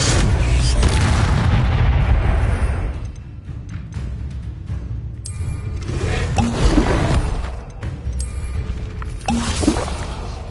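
The Incendio fire spell is cast in Hogwarts Legacy, opening with a loud roaring whoosh of flame that fades into crackling bursts and scattered impacts, with a later swell of flame noise.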